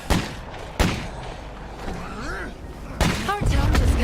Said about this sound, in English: It's a firecracker that does do some kind of explosive damage.